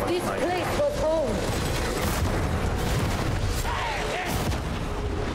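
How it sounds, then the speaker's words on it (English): Psyker force staff blasts go off in the Warhammer 40,000: Darktide video game, a run of loud booming explosions and crackling impacts layered under voices and in-game chatter. "Did they make the explosion for the Psyker staff bigger?"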